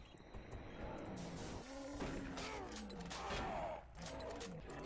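Gunfire in the shooter Doom 3, a busy stretch of game combat with bursts of shots under a steady mechanical drone and scattered buzzing effects, fairly quiet overall.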